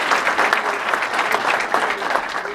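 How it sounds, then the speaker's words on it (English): A room full of men at a Martin Luther King Day breakfast applauds their convener, a continuous dense crowd clapping, fairly loud and sustained for the whole stretch with no speech on top. "Why don't we applaud our convener, Brother Johnson."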